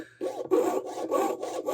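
A jeweler's saw cutting metal in rapid back-and-forth strokes, about six even rasping passes, close and clear with short gaps between strokes and no talking.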